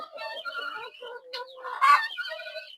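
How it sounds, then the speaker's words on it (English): Chickens clucking and chattering close by at a village villa in Nyabohanse, a steady run of short calls with one louder squawk near the end. "So here we have the chickens."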